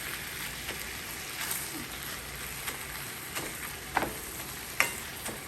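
Beef and sausage brown in a pan with a steady close sizzle, while a utensil stirs and scrapes now and then with a few sharper clicks against the pan.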